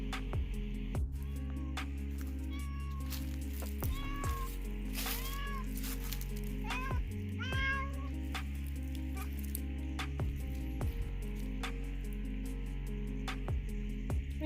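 A pet cat meows repeatedly at an animal rescue ranger station, several plaintive rising and falling calls spread across the stretch, close and clear over a steady low mechanical hum with scattered clicks and taps.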